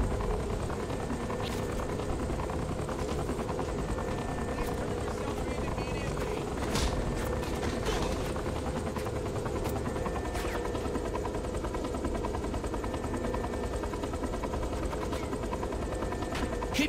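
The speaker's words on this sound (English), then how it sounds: "I've never flown anything like this thing before. It's called a helicopter" Helicopter in flight in the game Saints Row The Third, a loud continuous rotor and engine drone with scattered gunfire bursts over it, and voices talking at times.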